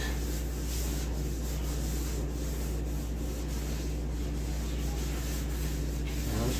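Paper towel smearing bacon grease into an old, freshly cleaned cast iron pan, a steady close dry rubbing and scrubbing texture that runs continuously with no voice over it.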